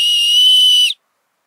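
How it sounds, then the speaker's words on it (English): A bear whistle built into the chest strap of a Norrøna Trollveggen 40L backpack gives one loud, shrill, steady blast of nearly a second, then cuts off abruptly into silence. "bear whistle,"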